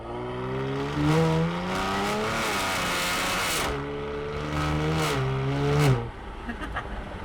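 A modified 520 hp Genesis G70 revs hard and loud nearby, its engine note climbing and falling in repeated sweeps before easing off to a lower rumble.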